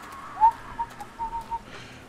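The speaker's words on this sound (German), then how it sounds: "Vögelchen." A small bird chirps in the zombie survival game 7 Days to Die, a few faint high whistled notes in a short sparse series over quiet background ambience.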